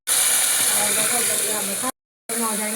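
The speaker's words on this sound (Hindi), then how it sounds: "अब पहले कुकर के निकाल देते हैं हवा" A pressure cooker holding rice pulao vents steam in a loud, steady close-up hiss that cuts out briefly and then resumes, with a voice talking faintly over it.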